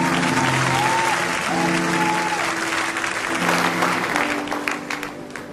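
Church congregation applauding and cheering to acclaim the Lord, a dense steady wall of clapping throughout, with singing or musical tones and voices woven underneath.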